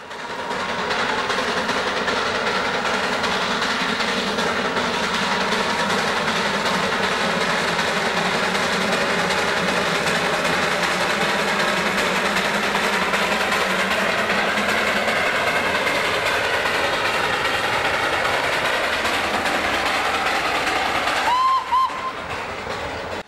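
Darjeeling Himalayan Railway steam toy train on its 2-foot gauge line in the Himalayan foothills runs steadily, a continuous rumble with rhythmic clickety-clack of wagons, loud and close, with a brief whistle-like tone near the end.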